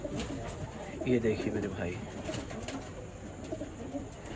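Red tamda pigeons coo softly in the background of a loft, low murmuring calls beneath someone speaking.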